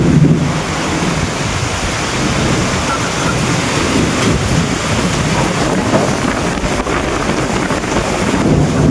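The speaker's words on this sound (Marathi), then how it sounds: "गावाकडं असलं का पाऊस, आता वरती पत्र असल्यामुळे पावसाचा आवाज येतो" Heavy June monsoon rain drums on a metal sheet roof of a village house, a dense, loud, unbroken roar that fills the whole stretch with no voices.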